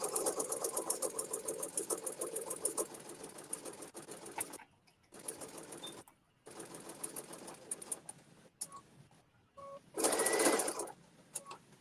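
A sewing machine runs in rapid bursts, stitching tucks into fabric, with a fast mechanical whirring chatter that stops and restarts several times between short pauses.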